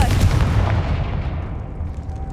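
Confringo blasting spell exploding in Hogwarts Legacy, a loud booming blast that rolls and fades into a lingering rumble.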